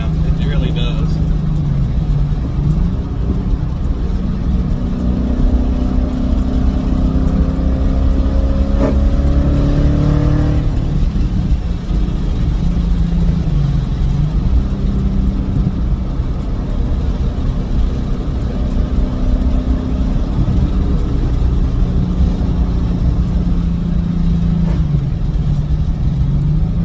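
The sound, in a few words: car engine revving while driving, shifting gears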